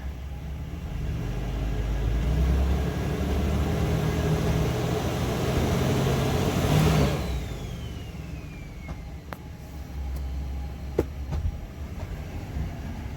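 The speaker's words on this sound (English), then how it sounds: "I'll give you a little brake stand here." A turbocharged 5VZ Toyota 4Runner held in a brake stand, its engine roaring steadily at high load for several seconds before the revs drop away, followed by a quieter idle broken by a few sharp clicks.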